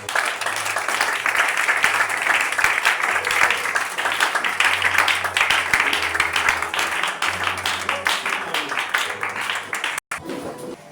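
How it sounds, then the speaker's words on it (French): Church congregation applauding the Lord, loud sustained clapping from many hands that fills the room for about ten seconds and then cuts off, with a low held tone and voices underneath. "Acclamons pour le Seigneur."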